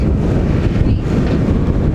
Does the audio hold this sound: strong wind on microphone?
yes